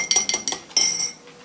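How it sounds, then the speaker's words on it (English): A metal spoon stirs sugar-water simple syrup in a glass, striking the sides in four quick bright clinks before settling into a softer swirl, close and alone. "So I'm just stirring it around."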